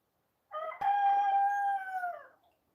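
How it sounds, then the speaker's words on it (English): A rooster crows once outside an open window, a single loud drawn-out cock-a-doodle-doo lasting about two seconds from fairly close by, with quiet before and after. "I had the window open so you guys could hear the rooster"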